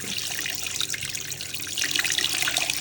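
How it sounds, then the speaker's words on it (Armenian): Water is poured over a turkey for a festive New Year marinade, a close, continuous splashing flow that grows slightly fuller toward the end, with no speech. "Չենք մոռանում, որ դեռ 2 լիտր ունենք ջուր ավելացնելու։"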